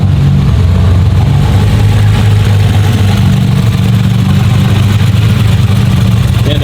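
Rebuilt RB engine of the Smokey Nagata TopSecret Toyota Supra idles up close, a loud, continuous low grumble with slight unevenness and no break.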